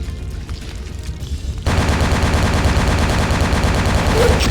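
Sustained rapid video-game gunfire erupts after a quieter opening and continues loud and dense as a steady automatic burst through to the end.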